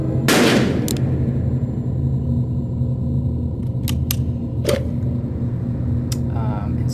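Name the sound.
video game audio with reverb inside the ship, Wwise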